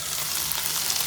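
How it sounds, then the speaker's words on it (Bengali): Pomfret fish frying on a tawa, a short burst of dense, even crackling sizzle close by with no pauses or voices. "pomfret Tawa fry"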